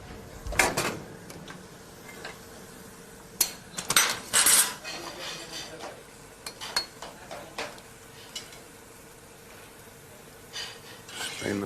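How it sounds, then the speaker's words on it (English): Metal pans shifted and set down on a hot stove while finishing an Italian pasta dish in an Emilia-Romagna kitchen: a few sharp clanks and scrapes in bursts, close and fairly loud, with quiet gaps between. "I'm going to swap these two pans around because I want the fierce heat from this one just to finish off the dish"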